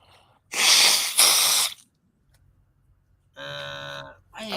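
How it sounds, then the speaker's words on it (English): A person blows their nose straight into a microphone during a live trucking show broadcast from inside an International ProStar cab, two loud close honking blasts followed after a pause by a shorter buzzing snort. "I didn't mean to blow my nose in the microphone"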